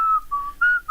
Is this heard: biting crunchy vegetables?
no